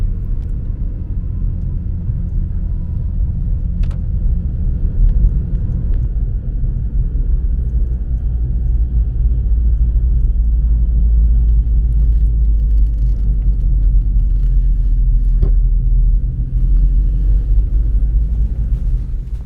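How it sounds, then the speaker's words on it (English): A car drives along roads around a woodland reserve on a foggy morning, giving a steady, close, low engine and road rumble for the whole stretch, with a couple of faint clicks and no talking. "So I just got in my sister-in-law's car and drove around to the other side of the reserve"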